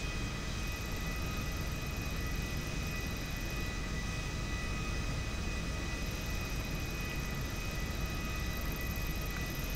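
A jet aircraft in the video game GTA 5 roars steadily for the whole stretch as it heads straight in, a loud continuous broadband engine rush with no talking over it.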